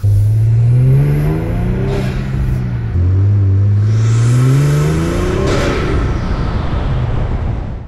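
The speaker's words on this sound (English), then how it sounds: "Definitely picked up turbo noise there." Kia Stinger GT 3.3 twin-turbo with Injen intakes revving hard, loud repeated engine surges rising and falling in pitch with whooshing turbo spool and airy intake rush.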